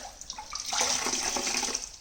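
Water running onto a microfiber cloth for cleaning a Porsche 911 Turbo's leather steering wheel, a short close splashing hiss that swells after a quiet start, with no speech.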